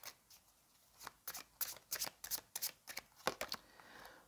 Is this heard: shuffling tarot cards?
yes